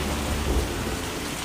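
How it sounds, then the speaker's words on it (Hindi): Heavy thunderstorm with strong wind and pounding rain, a dense continuous roar with a low rumble of thunder swelling briefly in the middle. "तेज हवा, बारिश, बिजली और बादलों की गड़गड़ाहट, पत्ते उड़ते हैं।"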